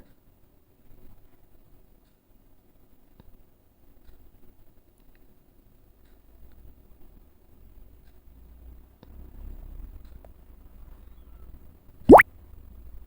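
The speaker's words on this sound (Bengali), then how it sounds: "এখন গ্রেভিটা হয়ে গেছে মাছগুলো দিয়ে দেব গ্রেভির মধ্যে" Pabda fish slip into simmering gravy in one short, sharp plop near the end, after a long stretch of quiet low background hiss.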